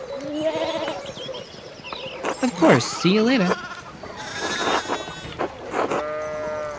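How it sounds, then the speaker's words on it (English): Sheep in the video game Pentiment bleat several times in quick, wavering calls, close by and loud, while people talk over and between the bleats. "we need to get these sheep under control"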